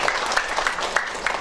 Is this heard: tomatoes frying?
no